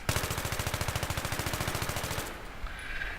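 Rapid burst of automatic fire from an AEK-971 assault rifle fitted with a foregrip and heavy barrel in Battlefield 3, steady rhythmic shots for about two seconds, then stopping abruptly with a faint tail.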